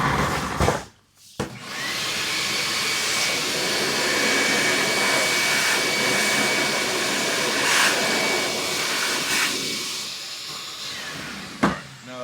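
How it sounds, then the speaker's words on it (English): A vacuum cleaner switches on and runs with a loud, steady whooshing roar for about ten seconds, then cuts off. "Then you grab a vacuum real quick."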